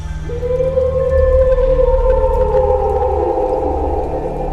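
Jackals howl as a sound effect: long, loud, wavering tones rise and overlap into a sustained chorus over a low rumble.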